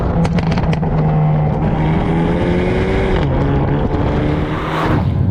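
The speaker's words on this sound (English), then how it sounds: "Oh, the crackles and the pops coming out of the exhaust are fantastic." The exhaust of a 2024 Hyundai i30 Sedan N drones loudly and steadily up close under hard driving, with sharp crackles and pops at the start and again near the end.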